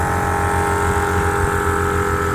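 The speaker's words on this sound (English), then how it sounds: "Now that beautiful hum of that diesel engine is just as loud as that" A diesel engine hums steadily beside an air compressor inflating tires, a continuous close drone with a low pulsing throb and no voices.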